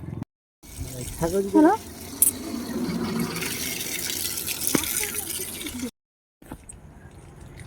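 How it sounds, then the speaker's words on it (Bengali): Water splashes and pours steadily as muddy feet are rinsed outdoors, close and continuous for several seconds, with brief voices near the start and a short pause near the end. "এই যে পাটা ধুয়ে একদম পরিষ্কার হয়ে গেলাম"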